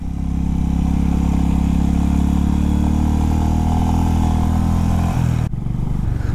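A Royal Enfield Interceptor 650 motorcycle rides on a mountain road in Spiti, a loud, close, steady engine drone that holds an even pitch, then dips and shifts near the end.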